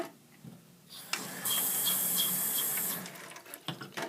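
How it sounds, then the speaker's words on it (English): Running tap water splashes onto a plate being washed with plain water and no detergent, a steady hissing gush under the faucet that starts abruptly, holds for a couple of seconds, then stops, leaving a few clinks and drips. "If I'm washing this plate with just water,"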